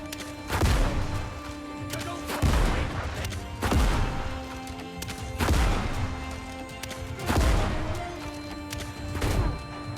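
Shotgun blasts in the pirate game Windrose, about six loud booming shots spaced roughly two seconds apart, each with a sharp crack and a decaying tail over faint game ambience.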